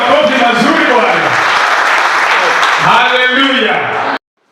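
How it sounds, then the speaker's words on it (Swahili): A church congregation at a thanksgiving service in Lodwar claps loudly and continuously, with voices shouting over the applause, before it cuts off abruptly near the end. "Hebu weka makofi kidogo kutoka Saboti."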